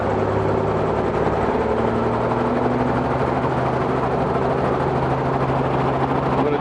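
A helicopter engine warming up on the ground at full power, a loud, steady, droning roar that holds evenly throughout with no voices.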